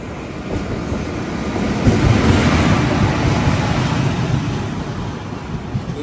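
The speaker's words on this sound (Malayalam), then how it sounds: "ഇവിടെ ട്രെയിൻ വന്നു. മയിലാടുതുറൈ സേലം എക്സ്പ്രസ്." Mayiladuthurai Salem Express train rolling into a station, a broad steady rumble with a louder swell partway through, heard near and without voices.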